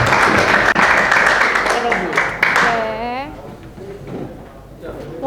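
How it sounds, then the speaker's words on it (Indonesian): A classroom group gets a round of clapping that fills the first half, dense and fairly loud, then trails off as a voice speaks over the tail. "beri tepuk tangan buat kelompoknya Vivian"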